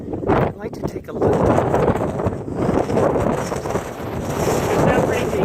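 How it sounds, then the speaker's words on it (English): Strong wind on the Appalachian Trail roars and buffets the microphone in loud, continuous gusts that swell and dip throughout. "it's windy down here. It's pushing me back and not over."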